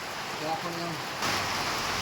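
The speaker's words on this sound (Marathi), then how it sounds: "इकडे बी चालू झालाय हळूहळू पाऊस" Steady rain with hail during a cloudburst in Lonand hisses throughout, growing a little louder partway through, with a brief murmur of voices near the start.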